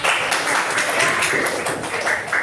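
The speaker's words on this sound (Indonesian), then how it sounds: "Beri tepuk tangan buat teman-teman." Students in a classroom clap for their classmates, a brief burst of close, fairly loud hand claps that rises and dips in small waves over two seconds.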